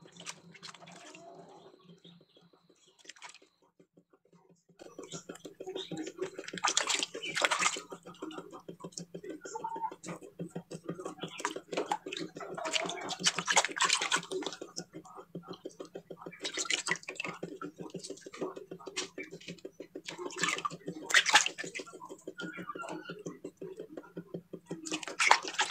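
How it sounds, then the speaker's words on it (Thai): Forest mushrooms being washed by hand in a basin of water, with continuous splashing, sloshing and dripping at close range, rising in bursts, while someone talks over it. "ล้างทุกดอกเลยนะคะ ล้างไม่ยากค่ะดินจะหลุดง่ายมากเลยค่ะ"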